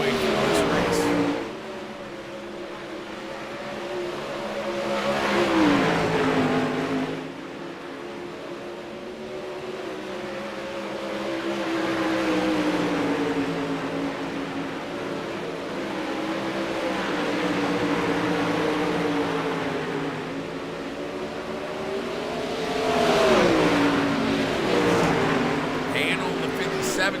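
Race cars lap a track during a night heat, engines droning continuously and swelling as packs pass, with an announcer talking over the racing.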